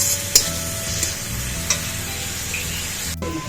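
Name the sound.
stirring carrots frying with salt and turmeric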